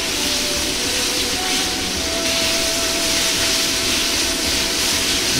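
Meat sizzles steadily in a hot pan as it is stir-fried for a bamboo shoot and pork ankake yakisoba. The loud, continuous hiss stays even throughout, with faint tonal hums underneath.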